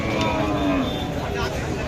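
A low, drawn-out moo from a cow rises through the noisy murmur of a crowded market.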